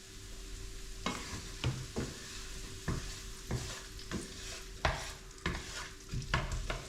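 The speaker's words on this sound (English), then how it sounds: "I'm just going to fry that onions off a little bit." Onions frying in a pan for a sauce, a soft steady sizzle punctuated by repeated scraping stirs every second or so, close and quiet with no talk.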